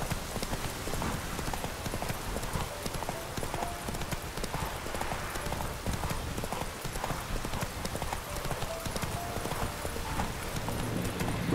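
Horse hooves galloping in The Witcher 3, a continuous rapid clip-clop rhythm under game ambience, steady and fairly loud throughout.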